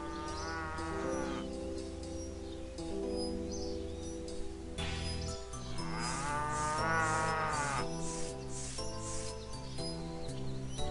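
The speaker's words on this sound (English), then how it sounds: "Apparently cows are popular to kill." Cows mooing in RuneScape, several long, tonal lows overlapping one after another over a soft game backdrop, clear and close with no talk.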